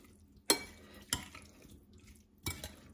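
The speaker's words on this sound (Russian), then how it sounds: "И все это перемешиваем." A utensil stirs an eggplant salad dressed with a little oil in a bowl, giving three sharp, quiet clinks against the dish with soft scraping in between and no speech.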